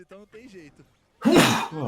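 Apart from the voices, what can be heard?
sneeze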